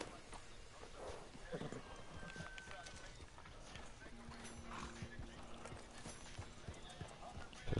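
Horse hooves clip-clop in a video game, a soft, steady patter beneath the background, with what sounds like a brief whinny partway through.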